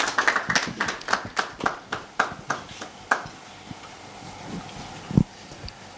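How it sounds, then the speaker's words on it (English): Sparse audience clapping at a small business seminar, a few pairs of hands tapping out distinct, fairly close claps in a quick rhythm that thins out after about three seconds, leaving a quiet room with a lone thump near the end. "Let's give a big round of applause"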